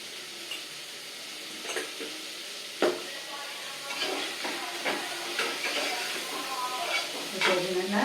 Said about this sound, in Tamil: இப்போ இது நல்லா வதங்கிட்டு இருக்கு.